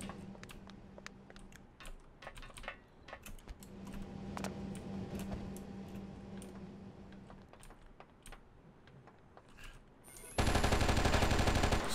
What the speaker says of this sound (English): Who was shooting?